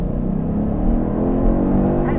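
A 2022 Genesis G70 with the 3.3 turbo engine in Sport mode gives a steady, loud, deep exhaust rumble up close, holding a sustained droning note with variable exhaust valves and no clear breaks.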